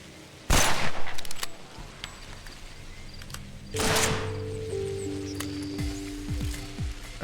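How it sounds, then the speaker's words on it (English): Rifle and pistol shots in the video game Pathologic, a sharp loud blast with rapid decaying echoes early on, then a second shot followed by low game tones and small clicks. "1 rifle shot and then a pistol shot to finish him off."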